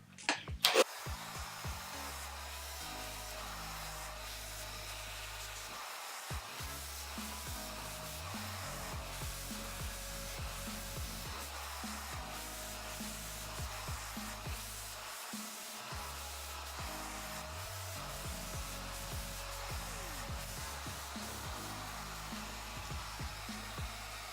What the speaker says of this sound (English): I'm going to use the cool setting on my blow dryer to seal the cuticle